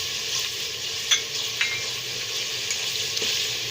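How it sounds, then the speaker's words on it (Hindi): Onions, ginger garlic paste and cumin fry steadily in a pan, a constant close hiss and crackle with a few brief clinks of stirring, no voices. "अब हम इसमें अदरक लहसुन का पेस्ट डालेंगे और इसको अच्छी तरह से भूनेंगे"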